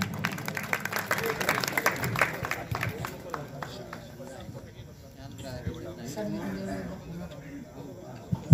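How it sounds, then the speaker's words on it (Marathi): An audience claps at a regional singing competition, the applause strongest at first and then thinning to scattered claps, with a loud voice talking over it and a sharp thump at the end. "जोरदार टाळी स्वागत करा"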